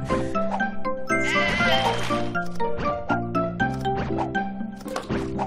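Sheep bleat in the video game Divide By Sheep, several cartoonish bleats overlapping game music, loud and close.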